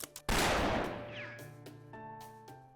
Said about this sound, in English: We can use the ringing of my gunshots to help figure out how to get around in here.